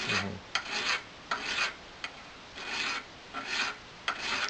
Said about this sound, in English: Now take your file and just make sure this is smooth here.